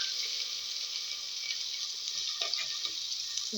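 Beans, carrot, tomato, shallots, garlic and curry leaves go into hot oil with spluttering cumin for a child's lunch, sending up a steady moderate sizzle with a few small clatters near the end.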